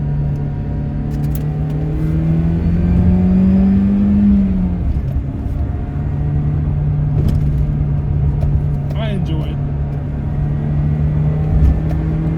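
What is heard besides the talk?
BMW M42 engine revving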